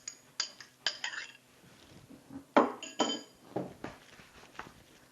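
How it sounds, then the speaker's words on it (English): Two eggs beaten in a bowl for meatloaf, heard as quiet, irregular clinks and taps of a utensil against the bowl in short bursts, with no talking. "It's just 2 freaking eggs that we freaking beat the shit out of."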